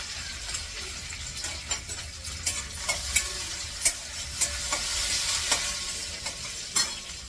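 Stuffed brinjals frying in an oil tempering with Kashmiri chilli powder, a soft continuous sizzle broken by repeated scraping and knocking of a spoon stirring the pan, no talking.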